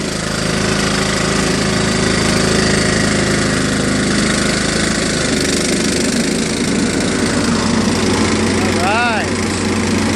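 A John Deere LA105 lawn tractor engine runs loud and steady up close, a continuous droning idle with a mechanical knock, while someone briefly speaks over it.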